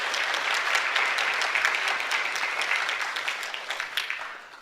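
A church congregation applauding during a worship service, a dense burst of hand claps close and loud that slowly thins and fades over a few seconds, with no words spoken over it.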